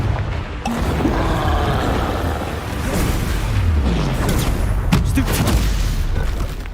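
Explosive Confringo spell blasts from the Hogwarts Legacy video game boom and rumble in a dense, continuous barrage with crackling bursts layered over deep low thuds.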